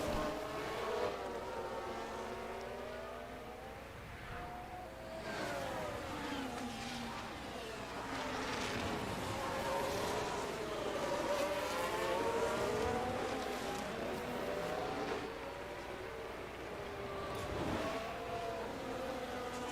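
A line of race cars drives past in a race, engines whining and shifting in overlapping pitch sweeps that rise and fade over about twenty seconds, heard at a moderate distance and fairly quiet.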